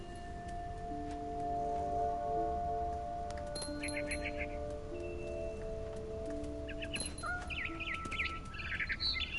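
Birds chirp in the video game What Remains of Edith Finch, with short tweets and trills scattered over several seconds against a soft outdoor ambience, as tones hum faintly underneath.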